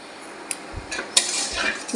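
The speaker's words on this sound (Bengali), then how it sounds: "এবার এই তেলের মধ্যেই আমি দেব এক চামচ পরিমাণ চিনি" Sugar spooned into hot oil in a pan while cooking potatoes for a vegetarian dish: a few metal spoon clinks against the pan, then a brief, close rising sizzle with scraping, no talk.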